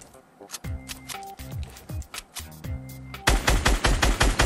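Rapid bursts of gunfire in the Fortnite video game, sharp cracks in quick irregular volleys with ringing tails, growing louder and denser toward the end as the shooting intensifies.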